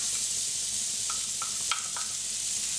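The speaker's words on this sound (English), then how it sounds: "And you're gonna add your shallots in." Shallots sizzle in melted butter in a pan as a steady, soft hiss, with a few faint clicks of a utensil against the cookware partway through.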